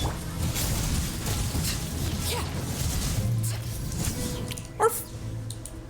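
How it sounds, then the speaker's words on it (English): Video game enemies bark like dogs in a few short, scattered yelps over a busy game soundscape, with one sharper bark standing out near the end. "Even the enemies are barking at Her Majesty Arlecchino"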